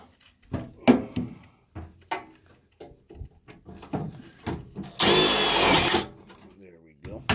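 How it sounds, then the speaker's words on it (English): A power drill drives a single self-tapping screw during an air purifier installation, giving one loud one-second whir after scattered knocks and handling noises. "I am just going to take a self-tapper and throw 1 screw in it."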